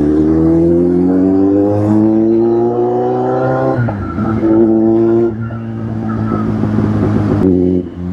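A car's exhaust drones loud and steady in a mall parking lot, its harmonic note rising and falling with revs, dipping briefly around the middle before climbing again.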